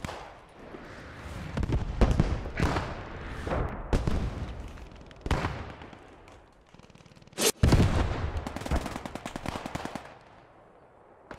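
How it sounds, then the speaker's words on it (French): Anti-tank gun and other weapons firing in the World War II video game Post Scriptum during street fighting in Arnhem, a series of sharp loud bangs and bursts at irregular intervals with rumbling tails between them. "Ah, c'est un canon anti-char qui tire,"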